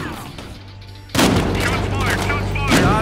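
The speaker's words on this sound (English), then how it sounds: "Shots fired!" Loud gunfire erupts in a Battlefield Hardline police shootout, a burst of rapid shots after a quiet moment, then sustained firing with another sharp volley near the end, with faint voices underneath.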